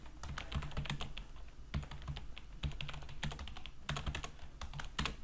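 Fingers type a question on a computer keyboard in MS Word, producing brisk, irregular key clicks in quick bursts, close up and steady throughout.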